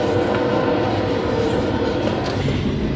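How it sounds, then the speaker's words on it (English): A train rolls past a level crossing while a car waits, making a loud, continuous rumble and rattle of railcars that stays steady for the whole stretch, close by and with no talk over it. "So we got stopped by a train, right?"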